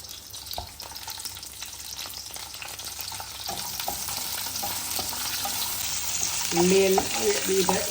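Onion, garlic and curry leaves fry in oil for pappad chamanthi, a loud, continuous close sizzle with scraping stir strokes, building slightly toward the end.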